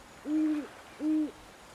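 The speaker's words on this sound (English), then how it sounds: "the occasional hoot of an owl hidden further in the forest" An owl hoots twice in a forest at night, two clear, even, drawn-out hoots spaced less than a second apart, fairly close and alone against quiet background.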